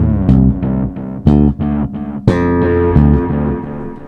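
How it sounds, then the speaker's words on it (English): Clean bass guitar from a Joe Dart Sterling bass, played through a Space Echo RE202 delay pedal: a series of loud, close plucked notes with sharp attacks whose sustained tones trail into repeating echoes. "Space Echo RE202 has overtaken the Echoplex as my favorite delay pedal"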